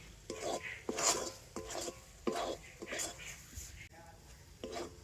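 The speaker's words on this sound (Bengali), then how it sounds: "তবে এইভাবে কিন্তু কন্টিনিউ নাড়াচাড়া করতে হবে।" Semolina stirred in a pan over low heat, a spoon scraping and tapping in uneven strokes with faint sizzling, fairly quiet and close, while a voice talks over it.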